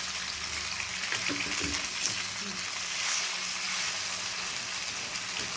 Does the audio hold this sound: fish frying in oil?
yes